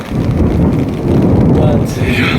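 Heavy rain pours outdoors in a loud, dense, continuous roar with deep rumbling thunder underneath, filling the whole stretch without a break.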